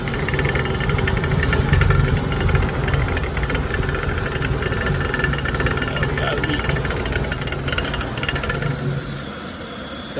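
A Firelake Shenandoah waste oil furnace runs with a steady, continuous low rumble and mechanical hum, its burner drone holding level throughout with a faint high whine above it.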